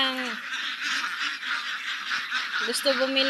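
Ducks calling in a noisy spot where a duck keeper sells balut, with honking quacks near the start and end over steady broadband clamor and a voice speaking.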